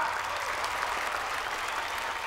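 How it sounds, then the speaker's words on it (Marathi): An audience at a Marathi film awards ceremony claps in a dense, steady wash of applause that holds evenly throughout, with no voices standing out. "सो आपल्या मराठी सिनेमासाठी एकदा जोरदार टाळ्या वाजवूया."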